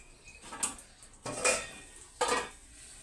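Four eggplant slices fry in a pan with a little oil and turmeric as a utensil turns them, making three separate clattering scrapes against the pan with quiet gaps between.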